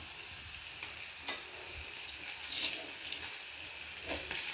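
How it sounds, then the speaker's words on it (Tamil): Bitter gourd sautés in a pan with onion and chili, giving a soft, steady sizzle broken by occasional light scraping strokes of stirring, close but quiet, with no voices. "பாகக்காய் இதில் போட்டு நல்லா வதக்கலாம்"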